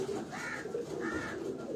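Pigeons on a Karachi rooftop give soft, repeated rolling coos, two or three calls close by over a quiet background.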